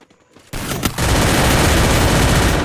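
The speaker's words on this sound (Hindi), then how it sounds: "एक बंदा दिखाई देता है और मैं उस पर गोली फायर कर देता हूँ।" Heavy, continuous gunfire from the Free Fire battle game starts abruptly after a quiet moment and keeps roaring loud and dense, like a sustained burst of rapid shots filling the rest of the moment.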